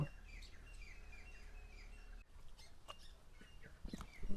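Small birds chirp and tweet repeatedly in the background in a green village farm, several short calls overlapping, with a faint steady hum underneath.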